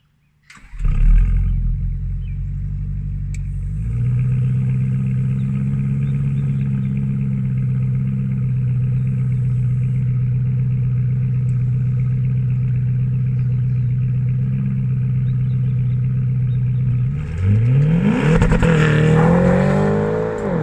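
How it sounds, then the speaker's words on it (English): A Porsche Panamera GTS engine starts and holds a loud, steady rumbling idle, then revs up sharply near the end as the car launches under launch control, heard from inside the car. "Porsche is how to scare the children, which is launch control."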